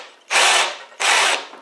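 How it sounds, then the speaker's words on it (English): Two loud bursts of a power drill boring a concealed hinge hole into a cupboard door, each about half a second of high whirring, close up with no talk. "I'm going to stop drilling when the drill bit is just flush with the surface of the cupboard door."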